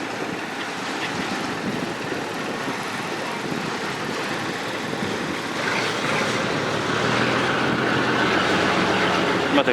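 Steady rumble of a tram running toward a riverside resort hotel in Thailand, a continuous rolling drone with rattling and a slight swell in loudness partway through, no voices over it.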